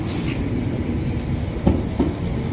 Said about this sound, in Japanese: 6番線に列車が到着いたします。